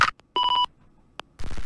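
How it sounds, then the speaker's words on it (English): A telephone rings in the courtroom video game Pursuit of Justice: a short, bright electronic ring tone sits between brief clicks and a burst of noisy game sound. "the phone ringing"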